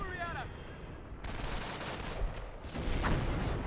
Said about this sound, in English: Artillery at us!